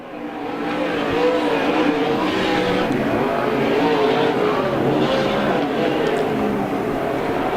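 USAC Southwest sprint cars race a dirt oval at Canyon Speedway, a steady loud roar of several engines with rising and falling revs, under an announcer's commentary.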